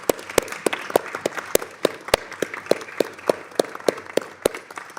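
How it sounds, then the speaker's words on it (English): Sparse, sharp claps ring out in a congressional committee hearing room, a handful of people clapping in an uneven rhythm against quiet room tone. "Let's give her applause."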